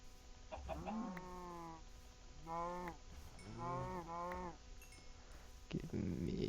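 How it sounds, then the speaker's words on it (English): Cows mooing in the video game Minecraft, several drawn-out moos in a row at moderate distance over a steady background hum, with a short clatter at the end. "Some cows over here."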